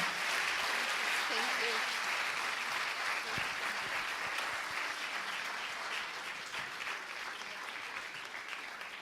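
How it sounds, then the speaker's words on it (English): Sustained audience applause at a kindergarten end-of-year celebration, a dense wash of clapping that carries on for several seconds and slowly fades a little toward the end. "So please give them one round of applause."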